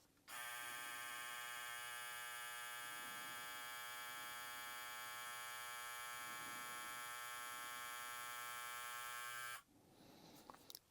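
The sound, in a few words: BRDClip Smart X 8198 hair clipper motor running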